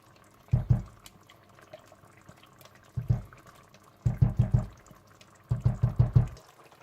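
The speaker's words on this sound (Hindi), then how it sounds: "मटन को अच्छी तरह भूनने के बाद अब आप इसमें इतना पानी डाल लीजिए कि जिसमें गोश्त अच्छा सा गल जाए।" Water is poured into a pot of well-browned mutton while mutton korma cooks, heard as four close splashing bursts separated by short pauses, with no talking.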